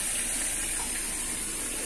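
Water pours into a washing machine drum as the machine runs a cleaning cycle, a steady, close, continuous rush with no voices.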